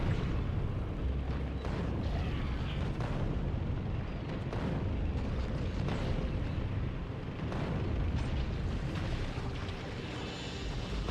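Explosive ammunition shots hitting biters in the game Factorio Space Age, a steady rumbling stream of muffled blasts and impacts with no clear breaks, moderately loud and heard without talk.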